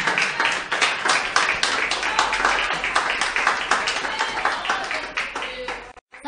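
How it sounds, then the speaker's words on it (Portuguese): A church congregation claps together in a steady, rhythmic beat during a worship service, loud and continuous, with voices mixed in before it cuts off briefly near the end. "Palmas que louvam o nome do Senhor Jesus."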